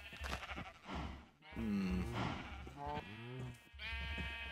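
Loud, wavering sheep bleats in Minecraft repeat several times in quick succession, with a few overlapping calls and some background noise.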